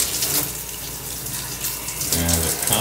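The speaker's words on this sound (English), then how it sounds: "thing you pull up, and water comes out the shower." Hotel shower at a Hampton Inn & Suites in Gulf Breeze, Florida, running steadily with a broadband hiss of spray, briefly shifting near the end as the flow changes.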